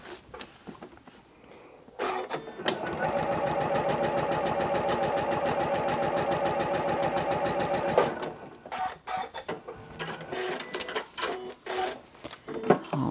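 A sewing machine stitches a fabric strip onto a reverse strip-pieced scrap quilt block, running in one steady, loud, fast rhythmic burst of about six seconds, with softer handling sounds before and after.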